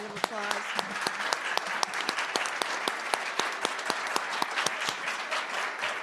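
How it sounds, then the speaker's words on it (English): A panel-discussion audience gives sustained applause, many hands clapping in a dense, steady patter with a few sharper claps standing out, and a brief voice is heard at the start. "Let's give our panel a round of applause."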